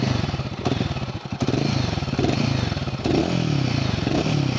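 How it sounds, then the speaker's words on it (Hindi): Royal Enfield Guerrilla 450 motorcycle exhaust, a loud, close, continuous thumping engine note that rises and falls slightly as the throttle is blipped, with no talk over it. "so this is the exhaust note"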